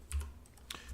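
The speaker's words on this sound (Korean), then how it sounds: "탭을 한번 눌러 보시고요" Computer keyboard keys pressed in a short quick pair of soft clicks, close and quiet, during an Adobe Illustrator CS6 session.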